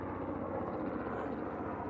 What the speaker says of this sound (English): and a helicopter above.